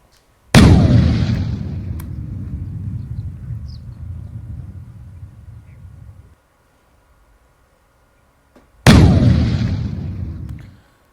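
An old live bomb found near a border village in Jaisalmer is detonated during defusal. Two separate, very loud blasts each roll into a long, deep, fading rumble, with near silence between them and no voices.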